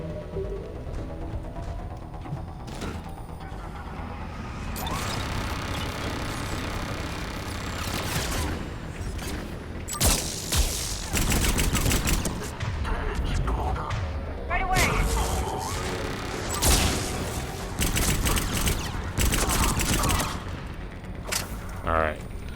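Turret gunfire in the Mass Effect 3 video game, heard as dense, rapid bursts and booming impacts over a busy battle mix, with people talking over the shooting throughout.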